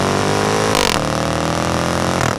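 A 2022 Jaguar F-Type R's supercharged V8 exhaust roars loudly and continuously, with a sharp burst of revving near the start and another toward the end.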